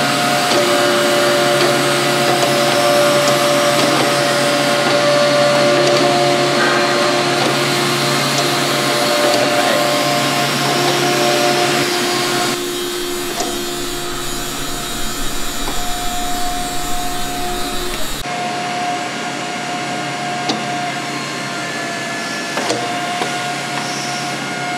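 An H-frame hydraulic press runs through its 5-inch stroke cycle, its hydraulic power pack giving a loud steady whine and drone with tonal hum that shifts character partway through and again later, close and continuous with no voices.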